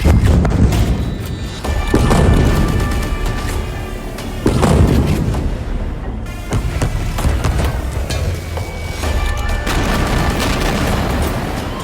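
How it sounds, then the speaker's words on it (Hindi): Heavy, booming bomb explosions in Gaza roll in one after another, deep and loud with rumbling tails, several blasts over about twelve seconds. "ऐसे ही गाजा में और धमाके देखिए।"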